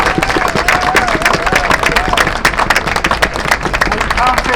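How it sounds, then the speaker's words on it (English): Applause from a crowd of health workers at a rally outside a London college, dense rapid clapping mixed with cheering voices, loud and close, continuous throughout. "Can we have a round of applause for everyone?"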